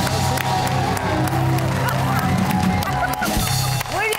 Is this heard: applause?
yes